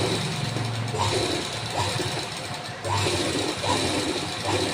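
A sewing machine slowly runs a straight seam on a boat neck blouse, giving a steady close mechanical whir with faint rhythmic ticking, briefly dipping near the middle before resuming.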